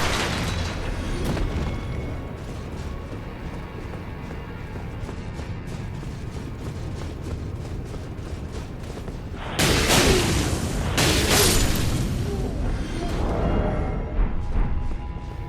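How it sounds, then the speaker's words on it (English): Exploding enemies in the Elden Ring video game, a run of sharp booming bursts over steady combat noise, with a louder cluster of blasts in the later part. "These guys explode, so look out for that."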